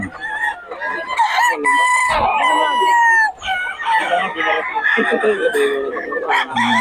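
Roosters offered for sale crow and cluck close by, overlapping drawn-out crows and short clucks from several birds, with talk mixed in.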